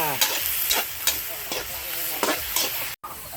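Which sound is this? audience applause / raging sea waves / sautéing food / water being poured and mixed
sautéing food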